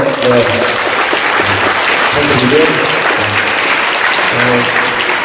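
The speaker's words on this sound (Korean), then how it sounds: "선생님들께 박수 한번" At a school community forum, an audience applauds the teachers with loud, sustained clapping from many hands, steady and continuous with faint voices in the crowd underneath.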